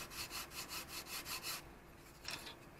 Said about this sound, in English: All I do is grab a piece of sandpaper and I sand it on an angle